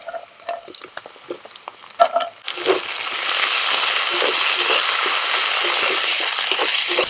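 Onion, green chili, ginger-garlic paste and chopped tomato hit hot oil and break into a loud, steady sizzle after a few clinks and stirring scrapes, frying close up with no talk.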